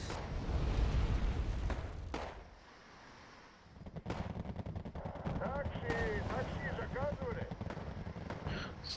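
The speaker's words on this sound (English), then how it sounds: "let's call in artillery then" Artillery fire in the video game Wargame AirLand Battle booms and rumbles, with rapid crackling bursts of gunfire over a low roar, loud and dense, dipping briefly before resuming.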